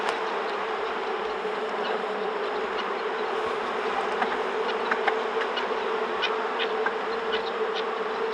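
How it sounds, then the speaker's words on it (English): A dense, steady buzz of many honey bees swarming close by, continuous and droning without pause. "Even a swarm of Africanized bees is just this docile until they build a comb."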